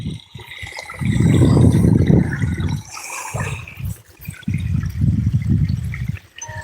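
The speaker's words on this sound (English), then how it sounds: "I don't know if you can hear this water." Water trickles and splashes steadily nearby in a stream, a soft continuous burble that swells and eases in waves, with no talking.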